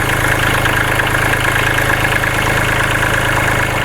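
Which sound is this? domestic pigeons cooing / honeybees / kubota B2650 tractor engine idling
kubota B2650 tractor engine idling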